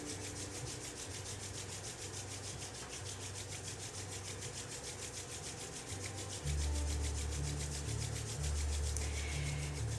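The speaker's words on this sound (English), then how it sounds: "wherever you're at, you can rub your hands together in front of your heart" Hands rubbing together in front of the chest during a morning Kundalini yoga practice, a soft continuous friction that steadies and grows fuller in the second half, close and alone with no talk.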